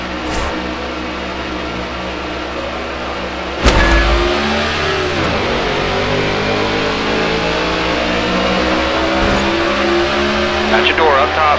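Stock cars race at Daytona in the NASCAR '14 video game, with steady loud engine drone throughout, a sharp jump in intensity near four seconds and shifting pitch as cars pass, while a spotter's radio voice talks over the roar.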